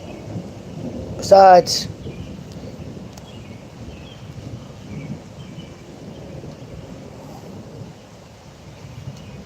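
Rain falls steadily outdoors just after people step off a train at night in Cass, with a brief louder crackle near the start and a low rumble under a single spoken word.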